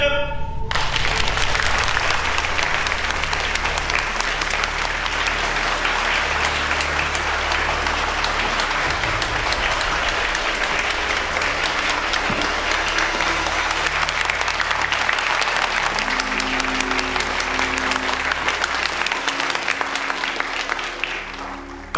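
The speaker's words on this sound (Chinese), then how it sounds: "所以请各位以最热烈的掌声欢迎" Warm applause in a film scene welcoming Mr. Sato, a gas weapons expert, at a gathering of Japanese army officers, sustained and dense throughout with a steady low hum beneath.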